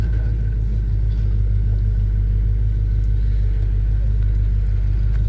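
A 1978 Chevy C10 pickup truck engine rumbles continuously with a deep, loud idle heard close up, a steady low throb filling the whole stretch with no talking.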